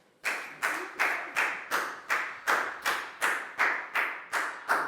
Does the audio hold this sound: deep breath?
no